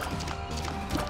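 Galloping hooves of a horse-riding boss in The Binding of Isaac: Rebirth, a steady clip-clop under dense game music and effects, with no talk.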